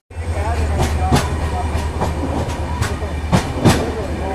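Rani Chennamma Express with a Hubli shed WAP-7 electric locomotive rumbling past at close range, a steady low roar punctuated by repeated sharp clacks of wheels over rail joints, with a voice faintly underneath.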